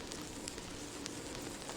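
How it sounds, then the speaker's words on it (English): Vinyl crackle noise plays as a soft, steady bed of fine pops and hiss, faint and continuous, with scattered slightly louder clicks. "you can add, for example, some vinyl crackles like these ones,"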